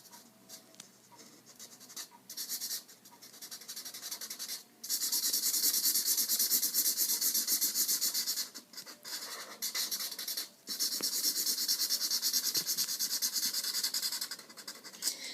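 A marker's thinner side scratches steadily across paper while a Pop! Vinyl figure is being drawn, long continuous strokes broken by brief pauses, close up with no talking.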